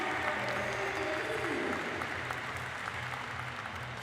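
Steady applause from competitors, teammates and coaches fills a Paralympic shooting range, a broad continuous patter of clapping that holds evenly throughout with some faint voices mixed in.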